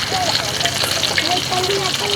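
Chicken pieces deep-frying in hot oil, KFC style, give off a steady, dense sizzle and crackle with small bubbling pops throughout, close and fairly loud.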